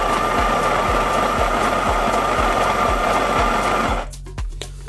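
A coffee grinder coarsely grinding coffee for a French press makes a loud, steady mechanical grinding whir with a regular low thumping pulse, then abruptly winds down and stops near the end.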